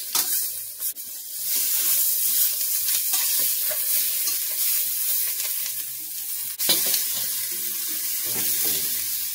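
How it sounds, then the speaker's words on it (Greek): Chicken pieces fry in a pan, giving off a loud, continuous close-up sizzle and hiss, with a few brief clinks and scrapes as the pieces are turned. "Τα γυρνάμε για την άλλη. Μέχρι να τσιγαριστούν από όλες τις πλευρές."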